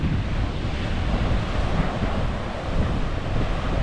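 Ocean surf breaks along the Gold Coast of Australia where surfers are in the sea, heard as a loud, continuous roar mixed with gusty wind buffeting the microphone.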